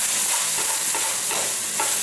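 King oyster mushrooms stir-fry over high heat in a wok, giving a loud, dense, continuous sizzle broken by repeated tossing and scraping strokes, close up and without talk.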